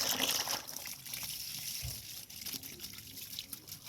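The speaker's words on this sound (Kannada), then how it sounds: "ಟಬ್ಬಿಗೆ ನೀರು ಬಿಡ್ತಾ ಇದ್ದೇನೆ" Tap water runs steadily into a tub used for washing freshly uprooted lotus tubers, making a continuous close gushing, trickling sound with no speech.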